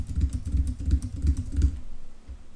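Rapid keystrokes on a computer keyboard while entering a password into a PHP registration form, a steady run of close, clicky taps that stops near the end.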